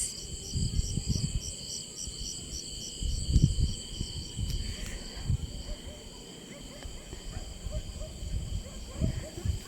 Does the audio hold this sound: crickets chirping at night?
yes